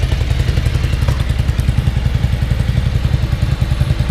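A 1987 Ducati F1 750 TriColor Italian race bike runs close by, its engine churning a steady, loud low-pitched rumble with rapid thumping pulses and mechanical clatter throughout.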